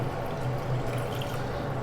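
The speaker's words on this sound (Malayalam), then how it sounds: "കുറച്ച് വെള്ളം ഒഴിക്കുന്നുണ്ട്." A little water is poured into a pan of mushroom roast, a steady low wash of liquid sound over a constant hum, close by with no talking.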